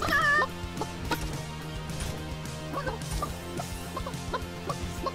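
Chicken clucking in the battle royale game Realm Royale, short repeated clucks over steady game music and effects, fairly close.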